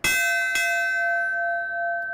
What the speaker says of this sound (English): that's when they'll ring this bell